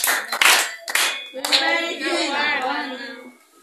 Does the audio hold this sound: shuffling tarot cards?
no